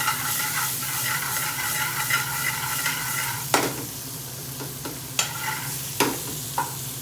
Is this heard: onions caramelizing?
yes